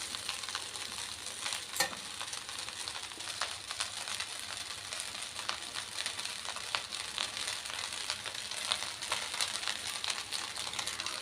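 Chicken fried rice being stirred and fried in a pan, with a steady close sizzle and scraping stir strokes running throughout at an even level.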